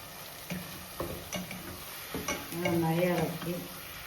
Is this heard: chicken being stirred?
yes